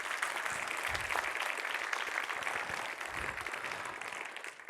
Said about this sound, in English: So please give a very warm applause once again and say thank you this way.